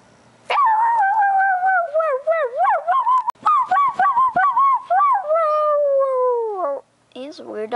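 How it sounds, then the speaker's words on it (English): A dog howling in long, wavering drawn-out tones, loud and close, sliding in pitch with brief breaks and yips before trailing off. "He's a weird dog."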